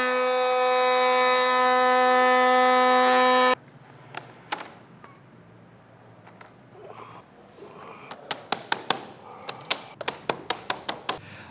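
Cutting a SwissTrax Ribtrax plastic floor tile: a loud, steady tonal whine runs for a few seconds and cuts off. Scattered taps and clicks follow, growing into a quicker series of sharp knocks.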